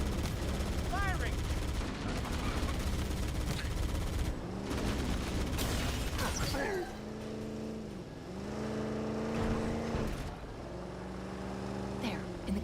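Gunfire in the video game Halo: Combat Evolved, dense rapid bursts of shooting with explosions and engine-like vehicle roars, loud and continuous throughout, with game effects layered over the shots.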